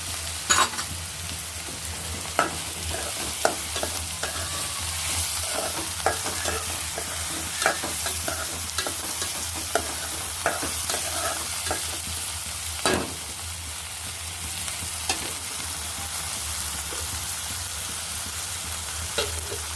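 Tomato and curry leaves frying in hot oil for a bottle gourd curry, a steady close sizzle with a spoon scraping and clinking against the pan at irregular intervals.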